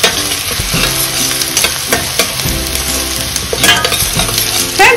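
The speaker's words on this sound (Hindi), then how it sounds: "अब इसको हम अच्छे से चलाते हुए हल्का ब्राउन कलर में प्याज को भूनेंगे।" Onions for palak paneer fry loudly in oil while being stirred toward light brown, a close, constant hiss with spoon scrapes over soft background music.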